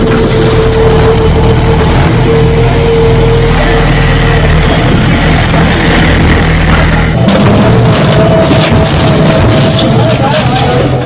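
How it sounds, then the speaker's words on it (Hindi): A bulldozer demolishes at a mosque in Sambhal, Uttar Pradesh, its heavy engine roaring loudly and continuously with clanks and shifts in load, while voices carry over the din. "हथौड़े के बाद बुलडोजर की कार्रवाई शुरू हो गई।"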